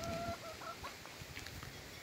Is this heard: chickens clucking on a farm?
yes